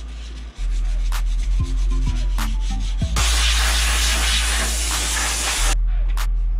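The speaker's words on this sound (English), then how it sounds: "today I'm gonna do just a little prep sanding to give the body filler, you know, something to bite into" Sanding the rusty rocker panel of a Honda Civic to prep it for body filler, a loud steady rasping hiss running several seconds over a low machine hum, with a few short bumps and scrapes.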